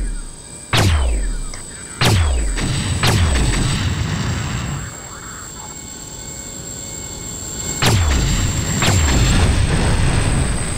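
Weapons fire in the space combat game Independence War, shooting at mines: five loud, sharp booming shots with swooping tails, two early, one near three seconds, then two more near the end, over a steady electronic hum.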